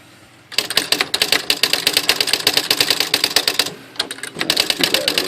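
A Smith Corona Electronic "H" Series typewriter typing in a rapid, steady burst of sharp keystrikes, close and loud, then a brief pause before another quicker run of strikes.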